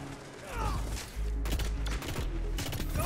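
Gunfire in the video game Destiny 2 crackles in short, dense bursts at close range, with a few quick volleys separated by brief gaps.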